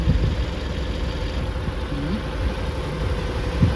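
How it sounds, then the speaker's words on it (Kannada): Krishna's vehicle idling nearby, a steady low engine rumble with a continuous throb and no other prominent sounds or voices. "ಕೃಷ್ಣ ಅವ್ರ ಗಾಡಿ ಕೂಡ ಬಂತು"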